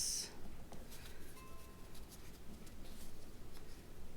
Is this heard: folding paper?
yes